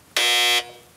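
A game show buzzer gives one loud, harsh, sustained blast lasting about half a second, close and alone before cutting off.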